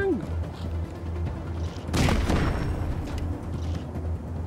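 A heavy turbo cannon fires in the post-apocalyptic game Wasteland 3, a loud booming burst of blasts about two seconds in that rumbles over steady low background drone, with a voice talking around it.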